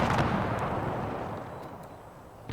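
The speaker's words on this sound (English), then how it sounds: "Get the Rangers all set up for firing." A massive volley of musket fire from troops in Empire: Total War rolls out as one loud, booming roar that slowly fades, with a fresh crack at the very end.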